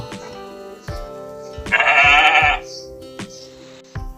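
A single loud sheep bleat rings out among scattered knocks and shuffling noises, up close.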